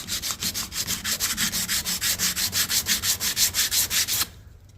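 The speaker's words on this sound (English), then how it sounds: "The high spots that I'm going to sand off with the block and get them all level" A sanding block is worked back and forth along the edge of a rear quarter panel, making a steady series of close, rhythmic rasping strokes, about five per second, that stop abruptly near the end.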